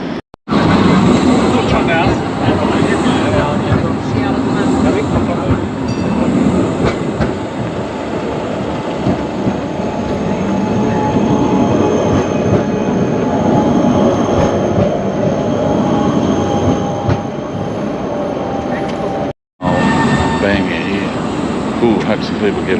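Inside a moving Prague tram, a loud, continuous rumble of wheels and motor fills the ride, with rattling and faint squeals along the track, broken by one brief cut near the end.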